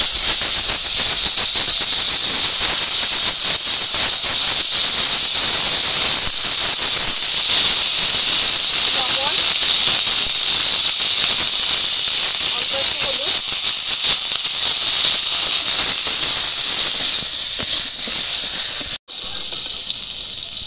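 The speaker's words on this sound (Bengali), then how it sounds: "এই মাছ ভাজার তেলের মধ্যেই আমি বেগুনগুলো ভেজে নেব" Eggplant slices frying in hot oil left over from frying parshe fish, a steady loud hiss and sizzle running almost unbroken with a brief cut near the end, and some talk faintly underneath.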